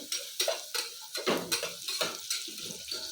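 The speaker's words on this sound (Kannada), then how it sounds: "ಈ ರೀತಿ ಫ್ರೈ ಮಾಡ್ಕೊತಾ ಇದ್ದೀನಿ" Something is stirred and fried in a pan for a sprouted fenugreek rice bath, heard as rhythmic scraping strokes of a spoon against metal over a soft sizzle, close and without talk.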